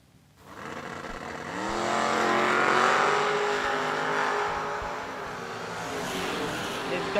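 Ford Pinto and Chevrolet Lumina drag cars launching side by side at World Wide Technology Raceway, engines roaring up through rising revs, loud and near, then holding a sustained howl as a commentator talks over them.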